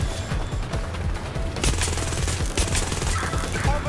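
Rapid automatic gunfire in the video game Watch Dogs Legion: dense, fast bursts of shots, loud and steady, with sharper cracks appearing in the second half and no voices over them.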